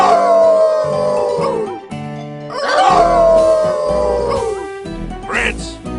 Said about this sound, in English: how about a good group howl?